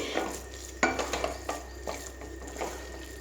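A spoon scrapes and clinks against a pan while masala khichdi is stirred, a few sharp taps and soft scraping strokes over a faint low sizzle, close and fairly quiet with no talking.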